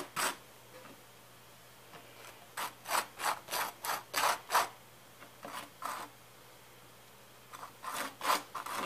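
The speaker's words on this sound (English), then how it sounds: "I'm going to just put some butter down here" A knife spreads butter on bread for a sandwich, giving close, rhythmic scraping strokes in quick clusters separated by short pauses.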